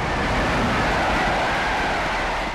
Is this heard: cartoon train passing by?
yes